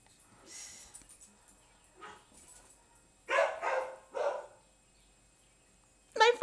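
Male dog at play with female dogs gives several short, yelping whine-like cries in separated bursts, nearby and moderately loud, with quiet gaps between.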